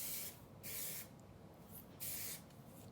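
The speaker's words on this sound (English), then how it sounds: "I just use some of that thermal shine spray" Thermal shine spray misted onto crimped and curled hair: three short hissing bursts from an aerosol can, close and fairly quiet, with brief pauses between them.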